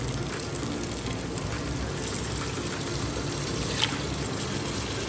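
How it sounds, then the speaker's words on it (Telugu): Half a glass of water pours steadily into a curry pan, a continuous splashing rush lasting several seconds without speech. "సో దీనిలో నేను 1/2 గ్లాస్ వాటర్ వేస్తున్నా."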